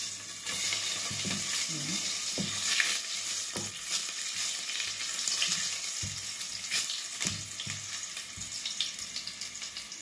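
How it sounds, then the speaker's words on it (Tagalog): Garlic sautés in a smoking-hot pan for pork caldereta, a loud continuous frying sizzle with scattered scrapes and stirring knocks up close; a voice says a brief word. "Lagay na po natin ang ating bawang."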